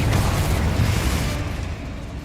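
Confringo fire spell explosion in Hogwarts Legacy, a loud deep rumbling blast that rolls on for a couple of seconds before tailing off.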